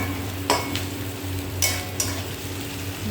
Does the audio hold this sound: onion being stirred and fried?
yes